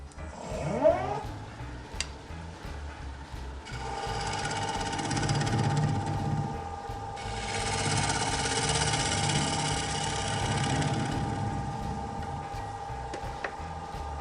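A wood lathe turns a birch burl bowl blank, producing a steady mechanical hum and whir that rises in intensity as the speed changes, with a faint scraping of the tool on the wood.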